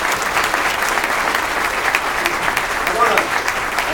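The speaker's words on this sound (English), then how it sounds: "How about a round of applause for our keynote speaker?" Breakfast audience applauding a keynote speaker after a transit chairman's Q&A session, a dense even wash of clapping from a room full of people, steady and moderately loud throughout.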